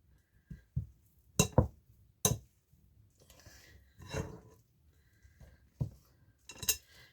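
Pie crust dough stirred gently in a bowl, with scattered soft clinks and scraping taps of a utensil against the bowl, close and quiet, separated by short pauses.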